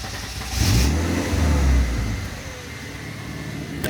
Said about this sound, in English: let's see if it's gonna start on its own now